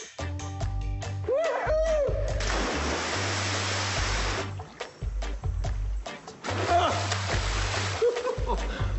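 A person jumps into the sea off Samoa's coast with a loud plunging splash and churning water, heard under background music and a voice.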